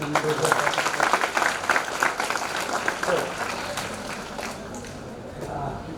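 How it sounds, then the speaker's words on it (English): An audience at a forensics entrepreneurship lecture claps for students after a poster presentation, a dense patter of applause that fades over a few seconds, with a voice speaking over it. "It's a clap for all of you"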